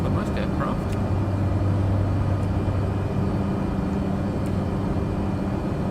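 Steady, droning engine hum of a Cessna Caravan in flight, from a flight simulator, running continuously at constant level with a low tonal rumble and no breaks.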